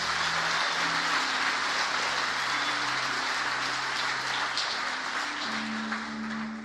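A church congregation applauding during a worship service, producing dense, continuous clapping that sounds like rain and holds steady throughout, with a faint sustained tonal hum underneath.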